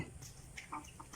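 A few short, soft clucks from a chicken, spaced irregularly over a faint background.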